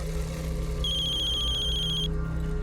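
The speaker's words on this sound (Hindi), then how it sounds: "लो आ गया फोन।" A telephone rings with a steady electronic trill, loud and close, for about a second and a half over a low background hum, with no talk.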